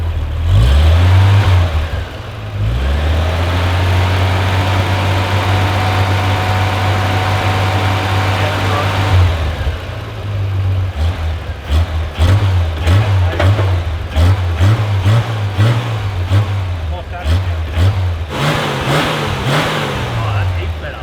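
A Holden HG car engine idles close by and is then revved in a series of repeated blips that rise and fall, with voices occasionally heard over the engine.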